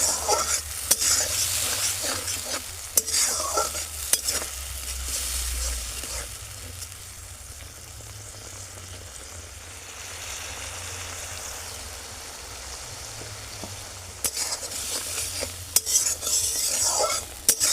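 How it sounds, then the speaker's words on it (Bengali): Tomato paste stirred and fried in a pan for an egg pepper fry: steady sizzling under repeated scraping and clinking of a utensil against the pan, busier at the start and end, with no talk. "টমেটোর কাঁচা গন্ধ চলে যাওয়া অবধি এটাকে আমি একটু ভালোভাবে কষে নেব।"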